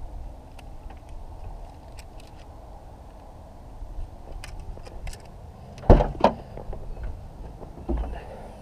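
The trunk lock of a 2018/2019 Renault Captur releases with a sharp clunk, followed by a few latch clicks and a softer thump as the lid lifts, set against quiet background hum.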